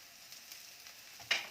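Garlic mushrooms fry in a pan with a soft, steady sizzle, and a brief louder hiss flares near the end as chopped green onion goes in.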